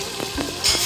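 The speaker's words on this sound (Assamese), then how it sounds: "এয়া আমাৰ লোকেল চিকেন বনি আছে ৰঙালাওৰ সৈতে" Local chicken fries in a kadai, a short burst of dense, close sizzling and crackling with a brief stirring scrape.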